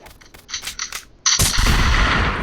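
Video game gunfire: a few light clicks and taps, then a sudden loud sustained burst of rapid shots that fills the rest of the moment.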